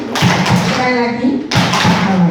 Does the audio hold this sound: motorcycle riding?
no